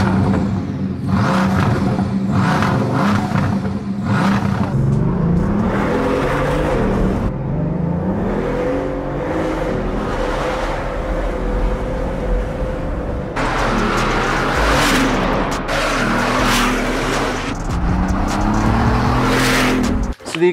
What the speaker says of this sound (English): The exhaust looks cool and it sounds good